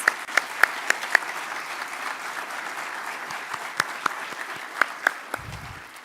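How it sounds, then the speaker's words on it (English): Applause from an audience at a university open house event, a thin, scattered patter with a few sharp distinct claps standing out, moderately close and steady before tapering off. "So let's give another round of applause for our president,"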